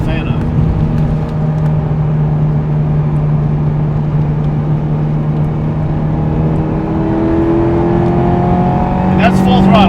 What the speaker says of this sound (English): And that's full throttle, guys.